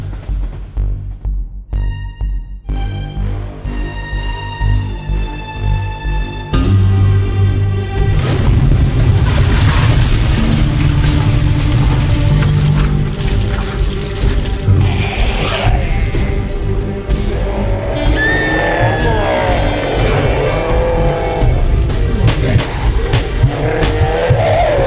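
Car engine and skidding tires in the zombie-themed driving video game Zombie Driver HD, a steady loud engine roar with tire squeals over game music, continuous throughout with no talk.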